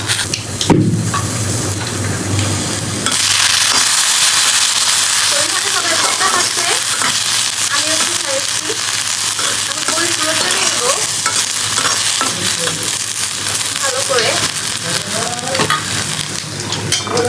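Chillies fry in a pan after the fish, giving a loud, steady sizzle that starts after a quieter opening and keeps crackling throughout with stirring scrapes, no voices.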